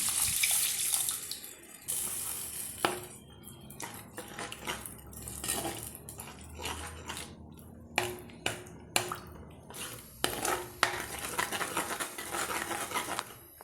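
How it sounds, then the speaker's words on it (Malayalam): A mixer jar is rinsed at a sink with running water and clinking utensils, then the water is poured into a chili-ground sardine fish curry, with close splashing, trickling and sharp metallic taps, no voices. "ഇനി ഇതിലേക്ക് ആ മിക്സിയുടെ ജാർ കഴുകി വെള്ളമൊക്കെ ഒഴിച്ചു കൊടുക്കാം."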